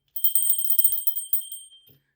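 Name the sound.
bells slipping out of lotioned hands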